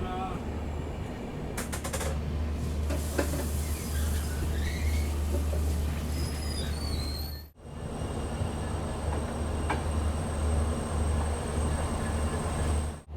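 A Humsafar Express train rumbles at Haflong station in the hills of Assam, with a loud, steady low drone, clanks and brief metallic squeals, and a short break partway through before the rumble resumes.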